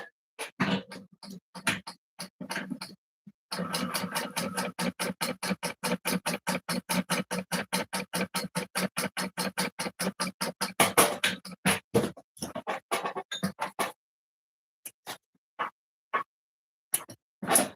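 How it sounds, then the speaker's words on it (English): Sewing machine stitching across a fabric edge for a sling pouch, rapid regular needle clatter in close repeated bursts, starting and stopping, with slower isolated stitches toward the end. "we're going to sew across this edge, flip it, and top stitch"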